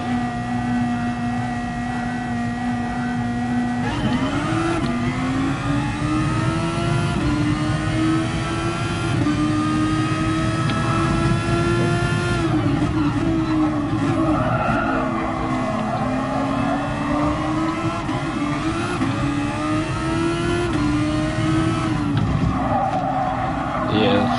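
A Super Formula SF19 race car in Gran Turismo Sport howls around Laguna Seca, its engine note rising and falling through gear changes with tire squeal, loud and continuous, amid other cars on track.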